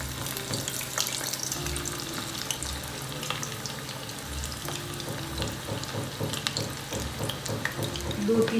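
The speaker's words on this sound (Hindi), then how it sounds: "अब हम इसको डीप फ्राई करेंगे" Muthiya dumplings deep frying in hot oil, a steady close bubbling sizzle that runs throughout with scattered pops and faint clinks, no voices, swelling slightly louder at the end.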